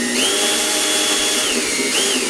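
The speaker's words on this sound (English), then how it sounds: "So I just went and got a drill bit" A power drill with a bit boring a starter screw hole into OSB for a portable generator enclosure, a steady close whine that rises as the motor spins up and dips briefly near the end.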